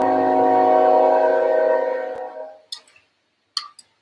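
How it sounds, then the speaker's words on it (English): A train passes outside open windows, a loud sustained horn-like rumble with layered tones that fades out over about two seconds, followed by quiet and a few sharp clicks. "Oh, the train."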